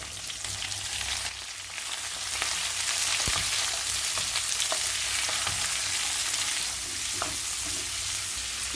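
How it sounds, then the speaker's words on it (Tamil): Dried chilies and capsicum sauté in a pan for chutney, giving a steady close sizzle and frying hiss with occasional stirring scrapes and clicks. "காஞ்ச மிளகாய், குடைமிளகாய் சேர்த்து வதக்கிடலாம்."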